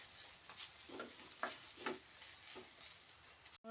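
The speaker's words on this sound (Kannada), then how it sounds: "ನೋಡ್ರಿ ಎಲ್ಲ ಅನ್ನ ಹಾಕಿ ಮಿಕ್ಸ್ ಮಾಡ್ಕೊಂಡೀನಿ ರೀ." Garlic rice being stirred in a frying pan, soft repeated scraping strokes over a faint steady sizzle, fairly quiet with no talking.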